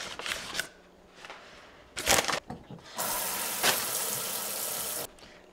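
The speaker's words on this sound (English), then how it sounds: "I know they say to not wash your mushrooms, but I always do." Running tap water splashing while mushrooms are washed under it, starting in short bursts and then flowing steadily for a couple of seconds, fairly faint and close with no talk.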